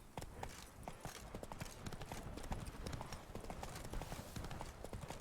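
Rapid, even clip-clop of a galloping horse's hooves in a video game, close and steady throughout, with faint game ambience behind and no speech.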